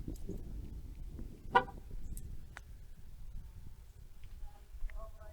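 A single short car horn toot chirps once as a car is locked at the Elma trailhead welcome center in Iowa, with quiet outdoor ambience around it.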